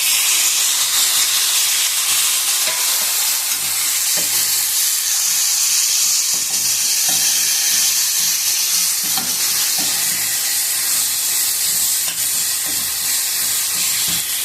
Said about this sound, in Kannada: ಬಾಣಲೆಯಲ್ಲಿ ಹಾಕಿ ಹುರಿಬೇಕು.